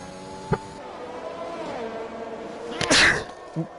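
A single close sneeze bursts out sharply near the end, brief and loud, against a steady background of talk and engine noise from a Monaco GP3 round of online racing, with a short click earlier and a small thump after.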